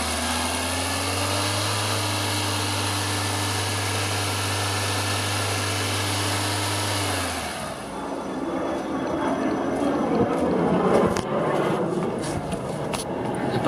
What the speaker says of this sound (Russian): Работа двигателя на повышенных оборотах.